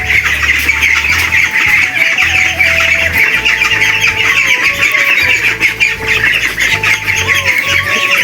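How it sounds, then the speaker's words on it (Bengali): A pet parakeet (tiya) squawks loudly and almost without a break, harsh repeated shrieks with a few tonal whistles and a low rumble underneath, close by and with no talking. "এটা হচ্ছে আমার টিয়া পাখি"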